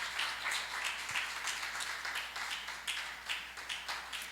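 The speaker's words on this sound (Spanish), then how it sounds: "Demos un aplauso a nuestro Señor de gratitud." Church congregation clapping in gratitude, a soft, steady patter of many hands heard from a distance, faint and even throughout.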